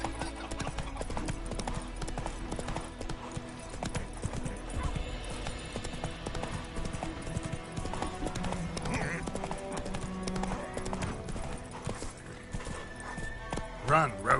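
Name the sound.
horse Roach galloping in a video game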